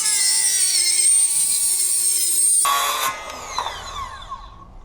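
A power saw whines steadily at high pitch through a desk top covered in masking tape, then the blade spins down and fades, with some rattling as the cut finishes.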